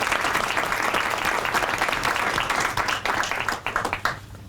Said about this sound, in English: Applause for you all.